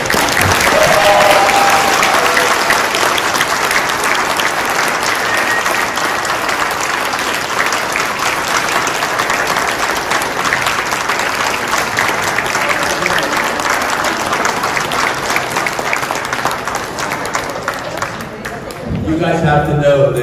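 Audience at a horror convention's Aliens panel in Las Vegas breaking into loud, sustained applause that fills the room for about eighteen seconds, with a few cheers mixed in before it tapers off.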